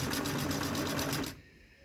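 Close, steady whirring of a sewing machine stitching a dart in fabric, running continuously for over a second and then stopping abruptly into quiet.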